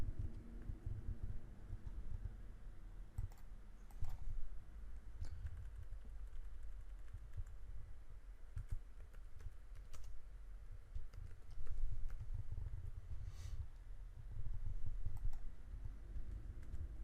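Mouse clicks, sharp and sparse, rise out of a steady low room hum during work at a computer in 3D design software, as a view is renamed via right-click.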